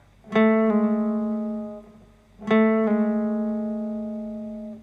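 Two plucked acoustic guitar notes, each sliding down to a lower pitch a moment after the pluck, ringing out and fading between them.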